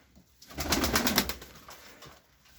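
Pigeons with young in a loft give a close, throaty cooing burst that swells for about a second and then fades. Softer murmurs follow, with no talking.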